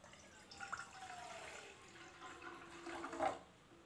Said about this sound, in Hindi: गैस पर चढ़ा लिए हैं पैन, इसमें हम पानी डाल लेते हैं।